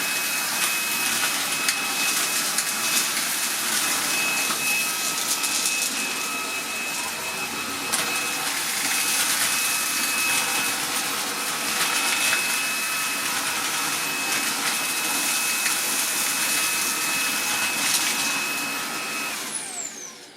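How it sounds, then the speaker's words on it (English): A Makita 40V cordless stick vacuum (CL001G) fitted with a cyclone attachment sucks up dust, giving a steady, loud, close motor whine with a high tone that runs unbroken for about twenty seconds with no talking. "Let's try the 40 volt with the Cyclone on it. You can hear it sucking up a lot."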